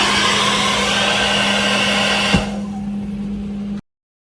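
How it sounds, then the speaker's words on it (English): A steady whirring motor drone with a constant hum, like a hair dryer running, then cutting off abruptly after a click near the end. "hair dryer is connected to pump A, and it's consuming around the 11 amp."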